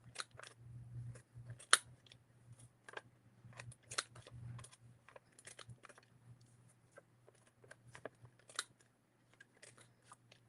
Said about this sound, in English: Trim these edges, and then we're moving on.